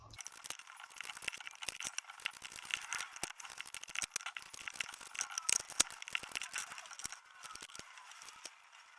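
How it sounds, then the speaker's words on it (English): A tarot card deck is shuffled quickly by hand, giving soft, rapid papery riffles and flicks in uneven bursts, close up and fairly quiet, with no talking. "I will speed up the shuffle."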